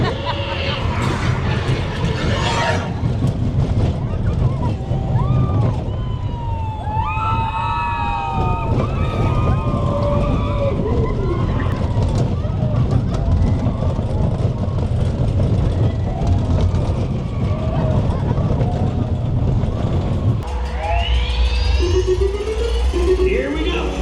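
The Slinky Dog roller coaster at Hollywood Studios rumbles and rushes past with loud wind noise on the ride, while riders shout and talk throughout.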